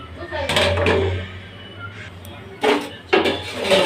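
Lid set onto a pot of sweet potatoes in a home kitchen, a few sharp metallic clanks and clatters standing out over a low stove hum, with a person talking nearby.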